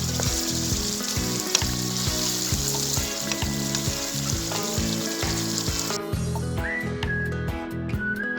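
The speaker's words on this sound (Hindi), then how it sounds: "हम इसे तकरीबन 15 से 20 मिनट और भूनेंगे ताकि सारे मसाले अच्छे से मिक्स हो जाएं" Mutton liver frying with spices in a pan gives a steady, close sizzle with some stirring, lasting about six seconds before it thins out over a tonal background.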